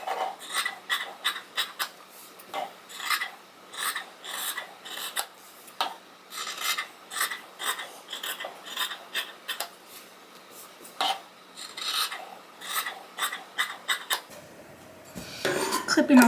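Scissors cutting away excess fabric from a blouse yoke draped on a dress form, giving repeated close, soft rasping snips in an irregular rhythm, with a louder rustle near the end.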